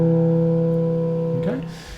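A jazz electric bass line on a practice run, a sustained low note ringing clearly before sliding up to settle on a major third near the end, played alone without talk.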